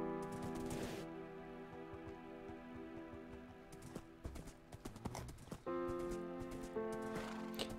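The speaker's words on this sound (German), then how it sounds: "Ich sehe dein Pferd alleine weglaufen," In the game Minecraft, a horse runs off alone with quick clip-clop hoofbeats in irregular bursts, layered over sustained synthetic game tones.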